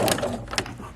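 A sewing machine running a back stitch on a dress hem, a close, brief mechanical whirr with quick clattering ticks.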